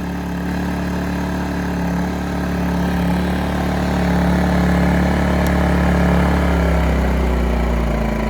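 A Champion 2000 inverter generator running in economy mode, with a steady, close mechanical drone and a low hum that holds evenly throughout, no talking.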